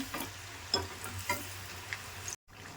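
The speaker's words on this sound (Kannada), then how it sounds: "ಈಗ ಒಂದೊಂದೇ ಹಾಕೊಂಡು ಮೀಡಿಯಂ ಫ್ಲೇಮಲ್ಲೇ ಕರ್ಕೋಬೇಕು" Curd kodubale rings deep frying one by one in oil over a medium flame, a soft continuous bubbling sizzle with a few light clicks and taps of a utensil, briefly cut to silence near the end.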